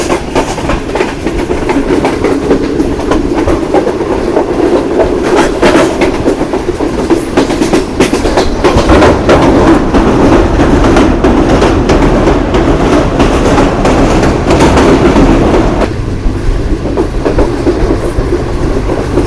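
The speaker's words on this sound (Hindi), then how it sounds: "बड़ी तेज़ रफ्तारी से चकलाला से निकलने के बाद ट्रेन अपने सफ़र पर गामज़न है, और थोड़ा सा ये डाउनग्रेड है।" A Green Line passenger train runs fast on a downgrade after leaving Chaklala near Rawalpindi, with steady loud rumble and continuous clickety-clack of wheels over rail joints throughout.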